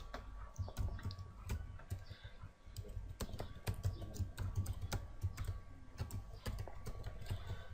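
Typing an address on a computer keyboard during web design work: steady bursts of rapid key clicks close up, with no voices.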